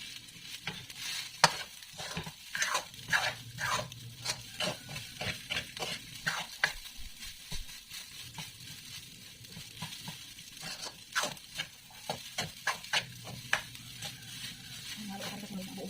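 A utensil stirs food frying in a pan, with repeated scraping strokes in an uneven rhythm over steady sizzling, close and moderately loud, while a voice talks now and then.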